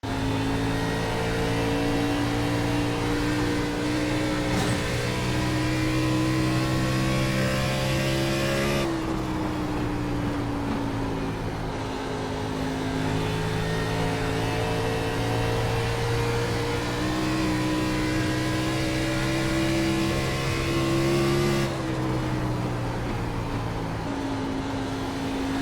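Race car engine heard onboard during a lap at Dover in iRacing, a loud continuous drone with steady harmonic pitch that dips and rises through the corners over about twenty-five seconds, with no talking.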